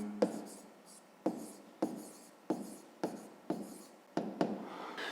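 A pen writes a maths problem's given conditions on paper in a series of sharp, separate strokes, about eight short scratchy bursts each fading quickly, close and quiet with no talking.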